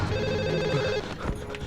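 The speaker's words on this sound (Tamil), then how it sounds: "உன் செல்போன் அடிக்குதுல்ல, எடுத்து பேசு." A cellphone rings with a steady electronic tone in a tense film scene, loud and close for under two seconds.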